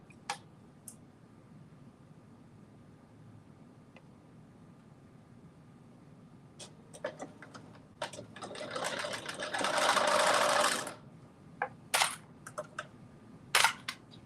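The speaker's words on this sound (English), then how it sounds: "we are now going to go to the sewing machine and we're going to stitch away" A sewing machine stitches the shoulders and sides of a garment, with one loud, close burst of rapid stitching lasting about three seconds, set among scattered clicks and handling taps in a quiet room.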